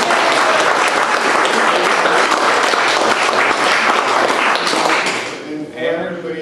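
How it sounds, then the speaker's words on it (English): Audience applause after thanks to Lenox Laser at the close of a metrology class event, a loud, dense crowd clapping sustained for several seconds before fading, with voices emerging at the end. "let's give one more round of applause for Lenox Laser"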